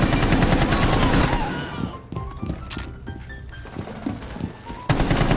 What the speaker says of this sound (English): Explosions all around.